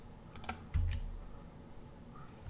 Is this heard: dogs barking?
no